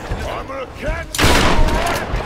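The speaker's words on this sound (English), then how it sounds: "I'm shooting you with a shotgun to the fucking head." Gunfire in a Tomb Raider game, where a shotgun is being used: a sudden loud, broad blast bursts in midway and its noisy roar carries on to the end, after a stretch of a voice talking.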